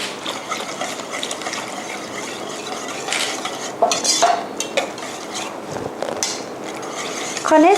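A utensil stirs a steamed-egg mixture with water, spring onion, coriander, shiitake mushroom and chopped carrot in a bowl, giving close, continuous swishing with scattered clinks and scrapes against the sides and no speech.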